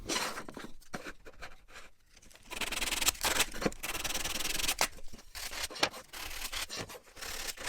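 Hand sanding old glue and debris off a wooden Ikea chair stave with abrasive paper, close rasping strokes in uneven bursts with brief pauses between them, no talking.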